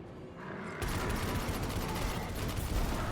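Rapid gunfire aimed at the Ravenous Knight in Destiny 2 starts abruptly after a quiet opening and then continues as a loud, dense barrage to the end.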